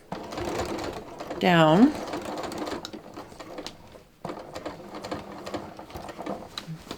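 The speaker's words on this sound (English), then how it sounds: "And I'm just going to stitch straight across." A sewing machine stitches straight across a jeans waistband in a short close burst of rapid mechanical whirring, then quieter handling noises follow while a person talks over it.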